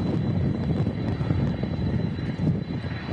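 A TUI Boeing 767 arriving at Manchester Airport as Storm Agnes approaches produces a steady, loud jet-engine roar mixed with gusty wind noise.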